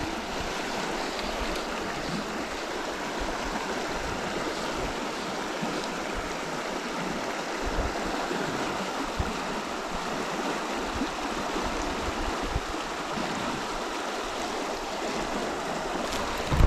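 A stream in the Central Washington desert rushes steadily and close, a dense, broad wash of water that carries on unbroken throughout with no voices.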